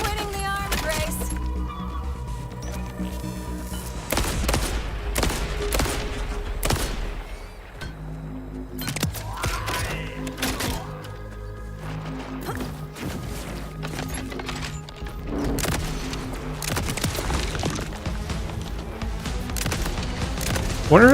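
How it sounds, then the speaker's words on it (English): Gunfire from a sniper rifle in the Borderlands 4 video game, with several loud, sharp shots spread through a dense, busy game mix of music and effects. "This calls for our friend, the sniper rifle."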